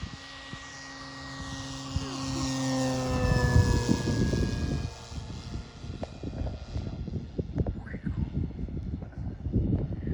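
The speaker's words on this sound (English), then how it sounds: "Gonna do one high speed pass here. This is 3/4 power." A Hangar 9 Cessna 182 RC plane with a 95-inch wingspan makes a high-speed pass at three-quarter power, its engine whine rising and then dropping in pitch as it sweeps by, then fading into a rougher rumble under wind and possible voices.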